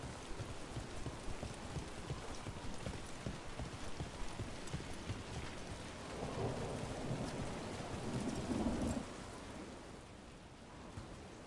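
Steady, heavy rain falls in the video game Dragon Age: The Veilguard, a dense wash of downpour with a low rumbling swell in the middle before it settles back to an even patter, with no voices.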